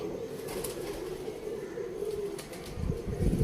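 Soft, low pigeon cooing hums steadily under a faint outdoor background, with a few brief rustles toward the end.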